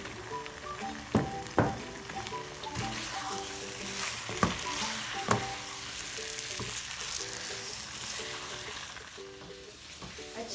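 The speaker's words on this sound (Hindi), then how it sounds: "अब चिकन को हम कितनी देर तक इसका फ्राई करते रहेंगे?" Chicken pieces frying in butter with garlic-ginger paste for a restaurant-style makhni handi, a steady loud sizzle with occasional sharp stirring clanks against the pan, no talking.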